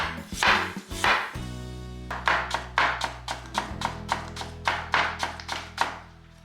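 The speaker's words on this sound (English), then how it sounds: "Thinly sliced ginger, people often remove the skin, but personally, I love to have it intact for a more bold flavor." Knife thinly slicing skin-on ginger on a cutting board, a regular series of crisp, close chopping taps after a couple of initial louder knocks.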